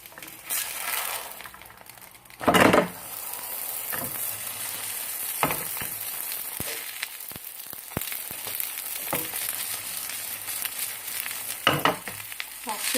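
Batbout flatbread fries in oil in a pan with a steady close sizzle, and louder crackling bursts and handling clatter come through now and then.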